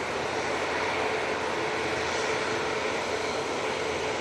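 A jet airliner with Rolls-Royce engines roars steadily at an airport, a loud, continuous broadband engine rumble and whine with no talking.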